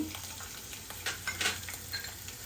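Mustard seeds crackling in hot oil as chillies are added for a Vidarbha-style ukadpendi, a steady close sizzle with a few sharper pops and spits, no talking.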